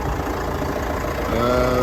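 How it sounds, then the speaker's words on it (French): A 6100M tractor engine idles steadily at close range during spring field seeding, a constant low rumble that swells slightly louder and more tonal near the end. "Mais bon j'ai envie de faire travailler un peu ce tracteur là."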